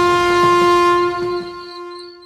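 A train horn blares loud and close with a steady sustained tone as a train arrives, the long blast holding for about two seconds before easing slightly.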